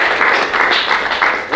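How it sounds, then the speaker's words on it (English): Short burst of audience applause at a business mastermind event in Miami, close and fairly loud clapping that swells in waves over less than two seconds. "Round of applause for Chris"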